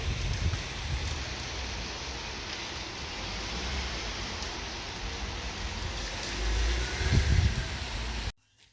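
Heavy rain pours down in a dense, even hiss with a steady patter of drops, fairly loud and unbroken for several seconds, swelling briefly near the end before cutting off abruptly.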